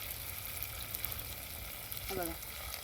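Ground onion, coconut and garlic masala paste fries in oil over a wood-fired stove for a Malvani clam curry, a faint, steady sizzle and hiss, with a brief voice near the end.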